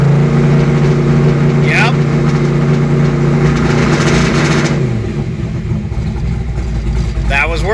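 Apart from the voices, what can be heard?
car engine revving during launch control test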